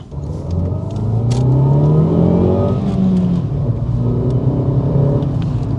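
A 1.4-litre Seat Ibiza engine revs up and down, with a throaty, whooshing induction note rising and falling in pitch; loud and close, no voices.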